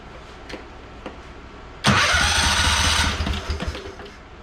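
Small engine cranking during a spark test, catching abruptly into a loud rattling run for about a second before sputtering down, close up after a few faint clicks.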